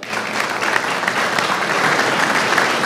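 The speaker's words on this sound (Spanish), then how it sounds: "le agradecemos a Carlos Fernández con un fuerte aplauso, por favor." Loud, sustained applause from an audience after a Spanish-language conference talk on Facebook development, a thick continuous wash of clapping that holds steady throughout.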